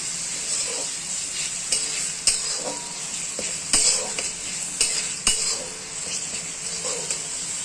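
Onions with ginger-garlic paste stirred in a frying pan, a steady hiss of frying overlaid by intermittent scraping clicks of a spatula against the metal, close and moderately loud with no voices.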